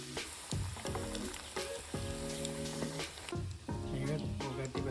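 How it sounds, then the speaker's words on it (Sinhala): Rolls made from jackfruit frying in hot oil, a steady near sizzle running throughout under a woman's speech and occasional clinks. "දැන් තෙල් එක රත් වෙලා තියෙන්නේ. අපි අපේ රෝස් ටික දාගමු."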